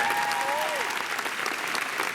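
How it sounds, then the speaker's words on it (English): An audience gives a round of applause at a live talk event, dense steady clapping throughout with a brief whistle-like tone at the start. "So give her a round of applause."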